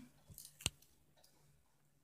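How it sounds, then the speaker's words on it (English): Scissors snip through a denim pant leg in one sharp, close cut, preceded by a softer click, in an otherwise quiet room with no talk. "Now take the one leg of the pant and cut it to your desired length."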